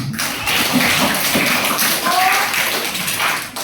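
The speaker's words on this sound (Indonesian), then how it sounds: "mari kita tepuk tangan untuk semua karena sudah belajar dengan baik" Students clap together in a junior high school classroom at SMP N 2 Pangururan, a short burst of close, dense clapping with taps and room noise mixed in.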